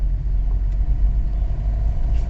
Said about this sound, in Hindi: अभी मेरी गाड़ी थोड़ी सी अब नॉइज कर रही है